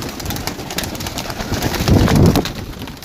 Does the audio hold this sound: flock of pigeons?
yes